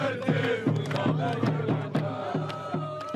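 A crowd at an Algerian diaspora rally in Paris chants and cheers in repeated rhythmic shouted bursts, a loud, dense outdoor mass of voices that rises and falls steadily.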